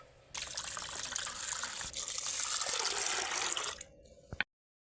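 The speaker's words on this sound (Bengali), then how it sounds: "এখন এই ডালটাকে খুব ভালোভাবে বেশ কয়েকবার ধুয়ে নিতে হবে" Soaked lentils being rinsed under running water in a kitchen sink, a steady tap stream splashing for several seconds before it cuts off, with a brief clunk at the end.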